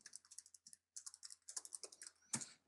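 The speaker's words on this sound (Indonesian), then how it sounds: "Jadi ketika saya mengetik sesuatu" Typing on a computer keyboard in quick, uneven bursts of crisp key clicks, with one short pause partway through and a sharper, louder keystroke near the end. No voices accompany it.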